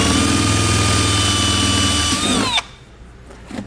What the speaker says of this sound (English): we're going to drill a hole first so we have our starting point